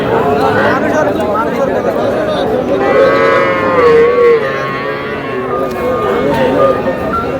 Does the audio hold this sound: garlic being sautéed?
no